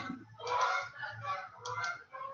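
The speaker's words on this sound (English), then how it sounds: "Little barnyard noises there. Sorry, the geese are heading south." Geese honk in a loud, close flurry of overlapping nasal calls, several bursts across a couple of seconds with brief dips between them, heard alone with no talking.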